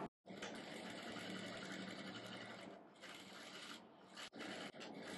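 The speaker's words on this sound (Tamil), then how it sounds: "இப்ப நம்ம வந்து இந்த கிராச் வளைவை வந்து தச்சுக்கலாம்" Sewing machine running steadily as it stitches the curved crotch seam of a pair of shorts, a dense continuous whir with a brief pause near the start and short breaks toward the end.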